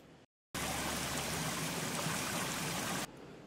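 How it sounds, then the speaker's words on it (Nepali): A waterfall fed by Phewa Lake hydropower outflow roars as a dense, constant rush of water, steady and loud for a few seconds, with a brief silent gap at the start. "यो झरनाको दृश्य पोखरा हाइड्रो पावर फेवातालको पानीले बनेको झरना हो"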